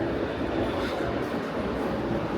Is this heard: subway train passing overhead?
yes